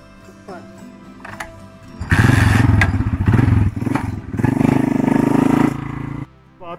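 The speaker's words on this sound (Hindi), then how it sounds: "बाइक खड़े तो मैं रास्ते में आपको ड्रॉप कर" A motorcycle engine revs loudly in two strong surges close by in a village street scene, between stretches of people talking.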